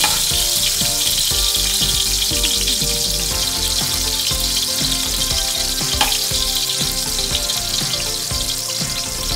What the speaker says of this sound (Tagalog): nilalagay ko na yung bawang. Yan, siyempre hayaan muna natin yung maluto hanggang maging brown ng konti.